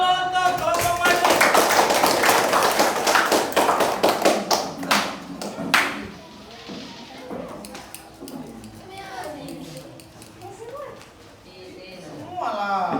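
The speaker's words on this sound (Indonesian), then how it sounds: "Tepuk tangan dulu untuk kelompok maju." A vocational high school class in Makassar claps for a group that has presented: a burst of brisk, close clapping lasts about six seconds, then dies away into quieter classroom sounds with voices talking.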